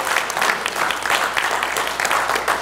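A church congregation breaks into dense, lively praise clapping, many hands at once in a fast, even patter that fills the room.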